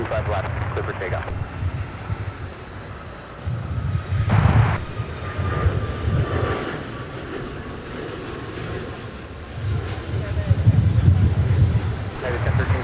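An airliner takes off from runway 25 left at LAX, its engine roar a steady broad rumble swelling and easing over several seconds, with wind buffeting and radio voices over it.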